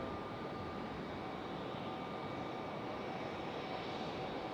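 An airplane at Raleigh-Durham airport gives off a continuous distant engine rumble and hiss with a faint steady whine, unbroken and without speech.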